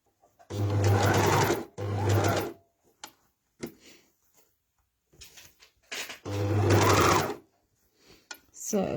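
An overlocker stitches a t-shirt neckband in two loud, steady bursts, each about a second long, then runs again later in longer bursts. Speech comes in the quiet gaps between runs.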